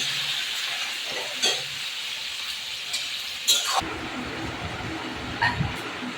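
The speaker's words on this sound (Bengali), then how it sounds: "বেগুন আর টমেটো কুচি একসঙ্গে দিয়ে দেবো, দিয়ে আমি কষাবো" Fried potatoes with eggplant and chopped tomato frying in a pan, a continuous close sizzle with a few clinks and scrapes, the hiss turning lower and fuller partway through as the pan settles.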